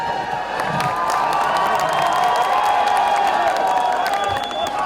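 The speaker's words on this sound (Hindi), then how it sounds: "एक शॉट पे जो तालियां सीटियां बज रही हैं, मैं क्या बोलूं" A large crowd at a film song launch event in Jaisalmer cheers, whistles and applauds Sunny Deol, a loud continuous roar of voices with shrill whistles rising above it throughout.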